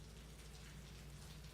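Rain falls steadily and softly in Fatal Frame 2 Crimson Butterfly Remake, a continuous, even patter of drops forming a faint ambient wash with no other sounds.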